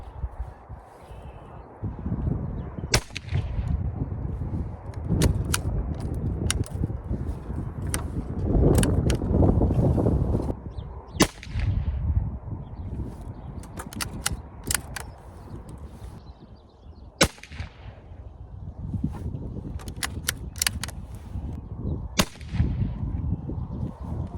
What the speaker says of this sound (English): we're gonna shoot 3 shots with the Hornady and then 3 shots with the CCI